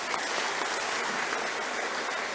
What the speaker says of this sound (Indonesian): Sekali lagi tepuk tangan buat mereka.